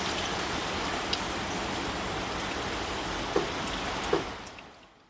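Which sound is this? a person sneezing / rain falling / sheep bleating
rain falling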